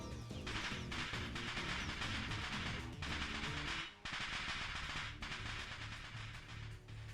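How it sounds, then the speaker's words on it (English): Dust explosion in the visual novel game Steins;Gate, rendered as a loud, rapid crackle of firecracker-like pops that fills the stretch in dense bursts, briefly dipping midway before continuing. "a sound like firecrackers resounds from the other side of the door. A dust explosion."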